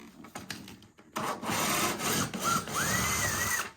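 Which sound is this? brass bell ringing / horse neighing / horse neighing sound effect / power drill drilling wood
power drill drilling wood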